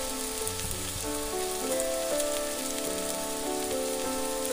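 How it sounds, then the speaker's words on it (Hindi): Garlic frying in hot oil until golden brown, a close steady sizzle and crackle with a faint tonal hum underneath and no talking. "लसूण मातशी गोल्डन ब्रावन जायसर तळसून घेवपाची."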